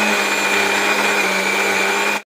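A mixer grinder grinds chutney at close range with a constant high motor whine, running continuously and then cutting off abruptly.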